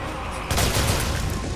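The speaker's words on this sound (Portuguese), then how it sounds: "Agora foi a explosão." An explosion in the zombie-horde video game Days Gone bursts in suddenly after a low rumble, a loud booming blast that spreads into a dense, sustained roar of debris and fire.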